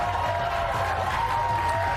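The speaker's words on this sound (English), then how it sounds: "The crowd at Gutfeld went wild." A television studio audience cheers and applauds steadily, a dense wash of clapping and whoops from a sizable crowd, loud and sustained throughout.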